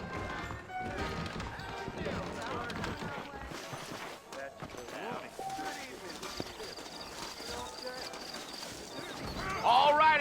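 Saddled horses' hooves clip-clop at a steady walking rhythm in the Western video game Red Dead Redemption, fairly close and moderate in level, running beneath in-game music and sound effects, with a brief whinny-like rise near the end.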